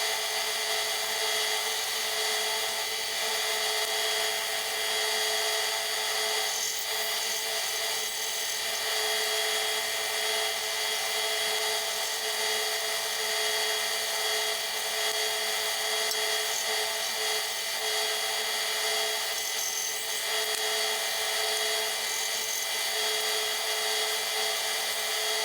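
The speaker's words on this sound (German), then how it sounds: "Aber jetzt will ich das mal aussägen." A small saw cuts out a wooden Christmas nativity figure, giving a loud, steady, high buzzing whine that holds level for about twenty-five seconds with only slight wavering.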